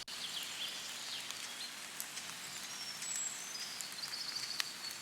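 Gentle rain pattering softly and steadily, with faint scattered drops and a few distant bird calls under a quiet hiss.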